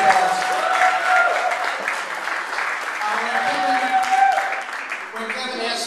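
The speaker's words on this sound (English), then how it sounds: "Let's give them again another big round of applause." An audience at a Young Democrats fundraiser evening in Brooklyn gives a sustained round of applause, with clapping rising and falling throughout and voices mixed in beneath it.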